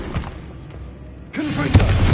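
Bombarda spell blast in the video game Hogwarts Legacy, one short booming burst with a thud and crackle after a quiet moment, loud and close.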